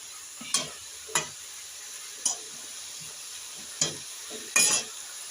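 Spinach with radish and lentil dumplings cooked in a pan, soft frying hiss broken by five separate scraping stirs of a spatula against the metal, spaced apart, no talking.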